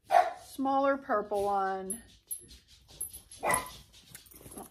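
A small dog yaps in quick, high-pitched barks near the start, followed by a person talking with faint chirpy sounds in the background.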